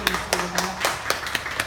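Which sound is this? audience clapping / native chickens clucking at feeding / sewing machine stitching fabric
audience clapping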